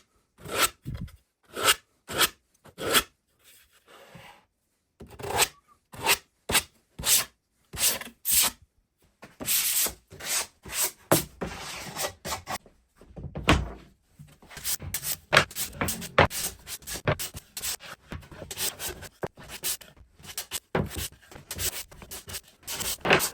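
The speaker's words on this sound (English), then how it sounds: "it cleans up easily with a bit of abrasive, and I can give everything else a bit of a rub down as well" Veneered plywood is rubbed down by hand with abrasive in a workshop, giving rhythmic scratchy strokes, first in spaced even bursts, then faster and denser passes, close and fairly quiet with no talking.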